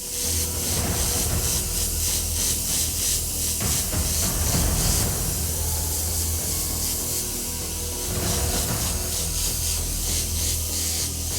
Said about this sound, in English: I'm going to spray over all of that white that I've just laid down